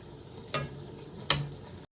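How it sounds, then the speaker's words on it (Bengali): Cauliflower pieces for Manchurian fry in plenty of oil in a wok, a steady soft sizzle broken by two sharp stirring scrapes about a second apart, close by. "দেখুন এইভাবে ভাজা হচ্ছে।"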